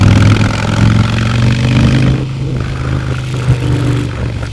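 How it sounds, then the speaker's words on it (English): 2022 Harley-Davidson Sport Glide motorcycle, loud and close, its engine pulling with a deep, steady throb and a rumbling, lumpy exhaust note, the pitch shifting briefly midway as it rolls on along the road. "it is one of the best, all-time best motorbike sounds, motorcycle sounds"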